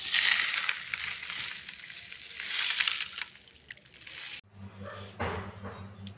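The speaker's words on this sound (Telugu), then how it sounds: "దీనిలో వాటర్ పోసి నానబెట్టుకుందాం" Water poured over a bowl of mixed grains set to soak for sprouting: a loud, sustained rushing splash for several seconds that cuts off abruptly, followed by quieter sloshing and faint room noise.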